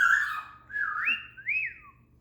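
A pet parrot whistles a short rising-and-falling tune, three clear swooping notes close by with brief gaps, alone in a quiet room.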